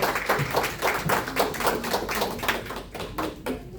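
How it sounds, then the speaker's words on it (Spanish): A church congregation claps to welcome a first-time visitor at a Friday service, a dense close patter of hand claps with regular swells, with no one talking over it. "dale un caluroso aplauso"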